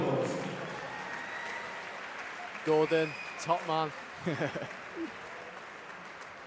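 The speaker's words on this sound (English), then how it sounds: "Give Gordon Davis a big round of applause." Applause fills the hall at the Welsh boxing national championships for a long-serving official, a steady wash of clapping under a voice speaking over a microphone.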